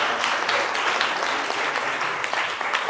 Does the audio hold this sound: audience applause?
yes